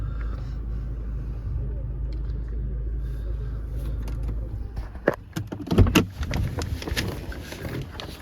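A 2015 Range Rover Evoque 2.2 SD4 diesel automatic under way, a low, steady engine rumble that gives way to louder clunks and rattling knocks near the end.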